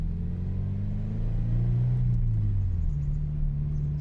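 Scion FR-S fitted with a Supertrapp WaveTech muffler, heard from inside the cabin: a loud, low exhaust drone that swells as the engine revs, dips briefly, then settles into a steady hum.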